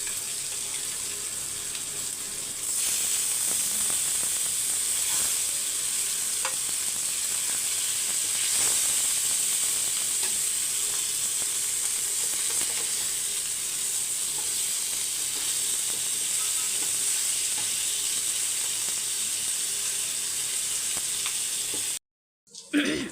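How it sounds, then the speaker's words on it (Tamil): Mutton curry simmers and sizzles in oil in a pan, a steady close bubbling fry with occasional soft stirring scrapes running for about twenty seconds before a brief cut. "இப்போ வந்து மட்டன் குழம்பு நல்லா மலர்ந்து வந்துருச்சு"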